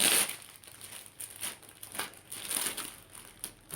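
Plastic packaging around a newly bought plant is cut open and pulled away, giving a run of close, crinkling and crackling rustles with brief sharper tears, fairly faint and without talk.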